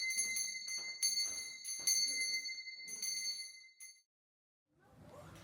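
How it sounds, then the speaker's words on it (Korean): A light monastery bell rings for breakfast, sounding a series of small, bright, thin strikes in an irregular rhythm. It is fairly faint and close, then falls silent before some soft background noise returns. "이 지극히 가볍디 가벼운 종소리는 아침 식사를 알리는 종소리입니다."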